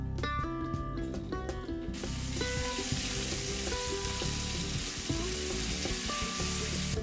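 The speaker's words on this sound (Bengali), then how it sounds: "এক মিনিট ভেজেই কাঁচা লঙ্কা বাটা পড়বে" Green chili paste frying in a pan with oil, cumin, asafoetida and ginger paste while cooking stuffed pointed gourd: after a short burst of music, a loud, steady sizzle fills the rest.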